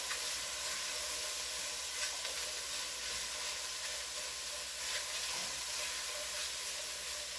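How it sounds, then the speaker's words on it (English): Sauce for coq au vin being stirred in a frying pan, a quiet continuous sizzle and hiss with faint scraping, steady and low throughout. "So stir that in and mix it well."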